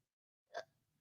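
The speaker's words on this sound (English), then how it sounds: "Sounds like he's got the hiccups." A single faint hiccup from a man dozing in a chair, a short soft catch in the throat, quiet and isolated in near silence.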